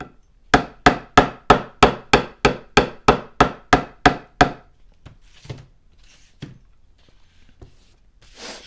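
A hammer strikes a high fret on a Leo Jaymz kit guitar during fret leveling: eleven sharp, evenly spaced taps in quick succession, then a few scattered quieter knocks and handling sounds.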